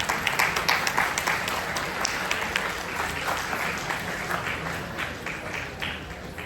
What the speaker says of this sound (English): So huge round of applause to you guys